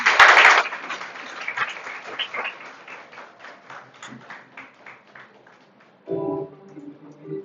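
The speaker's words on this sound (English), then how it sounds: "Yes, keep clapping." An audience claps at a university English department's annual function during a medal presentation, a loud burst at the start that thins into scattered, steady claps and fades, before a voice starts speaking at the end.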